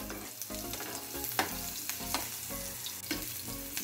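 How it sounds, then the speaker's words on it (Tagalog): Ground meat and onion sizzle steadily in a hot pan, with a continuous frying hiss broken by repeated spatula scrapes and stirring knocks. "Dahil mainit na ang ating kawali, gigisahin na natin ang ating giniling."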